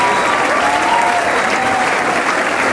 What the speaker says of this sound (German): Ihr dürft ruhig klatschen.